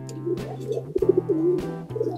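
Pigeons kept for racing and being sunned after a bath coo in low, rolling phrases close by, several overlapping calls over a steady background hum with brief clicks and rustles.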